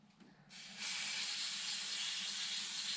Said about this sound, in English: Spray it in there, just let it drip out.